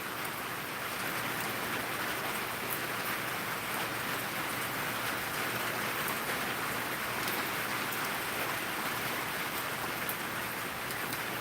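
Heavy rain pours without a break at night outdoors, making a loud, dense, even hiss with occasional drop ticks throughout; no one speaks.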